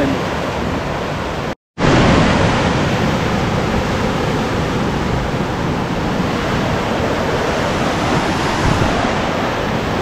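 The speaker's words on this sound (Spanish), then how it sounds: "Se nos pasa bastante el mar" Sea waves wash in a loud, continuous roar heard from a boat while fishing, with a brief dropout near the start and wind buffeting the microphone.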